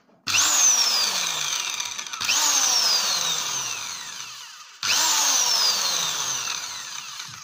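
Elitech 350RE electric impact wrench fitted with a socket, run in three close, loud bursts: each starts with a sharp whine that winds down in pitch as the motor spins up and coasts, with no speech.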